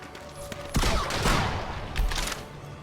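A burst of gunfire as a ranger unit takes a pot shot in the strategy game Civilization: Beyond Earth, loud rapid volleys crackling over about two seconds with no speech.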